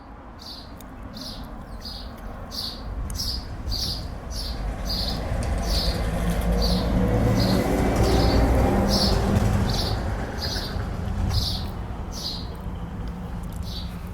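Birds chirp and tweet in quick repeated bursts beside a canal in France, over a steady outdoor hum, with softer low cooing calls underneath.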